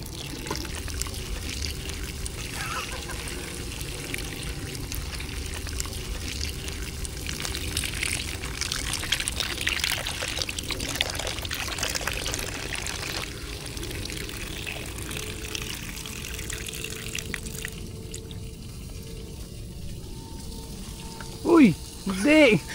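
Fresh water pours steadily as farm vegetables are washed at a minivan campsite, a continuous splashing rush lasting many seconds with some clattering near the end.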